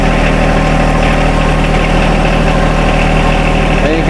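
A compact tractor engine idles steadily at close range, a continuous low mechanical hum with a constant rumble and vibration and no change in pace throughout.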